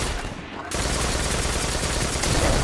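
Exotic auto rifle fire in the shooter game Destiny, a dense rapid volley of shots that bursts in after a short pause and continues loud and unbroken, with someone speaking under the gunfire.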